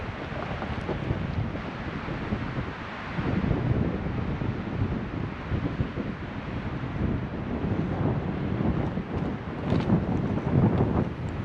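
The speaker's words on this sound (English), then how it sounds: "It's windy, but it's nice." Strong wind roars steadily across an open microphone on a hilltop on the Mogollon Rim in Arizona, a constant rushing buffet with gusts swelling and easing throughout.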